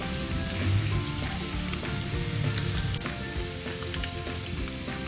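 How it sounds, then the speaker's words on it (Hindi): Onions sauté in hot oil in a karahi for chicken chilli gravy, giving a loud, close, continuous sizzle and crackle throughout. "इसमें प्याज डाल देते हैं। प्याज को भी सौते कर लेना है।"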